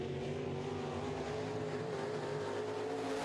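Modified race cars roar around turn four of an oval track on the final laps of a heat, a continuous loud blend of engine drone with no clear pass-by peak.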